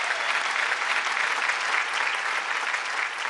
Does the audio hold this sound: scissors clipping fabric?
no